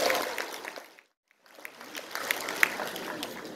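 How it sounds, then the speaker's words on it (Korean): Wedding guests applaud the groom in a hall, a dense patter of clapping that breaks off briefly, then resumes and carries on under faint voices. "다시 한번 신랑 박현민 군에게 큰 박수 부탁드립니다."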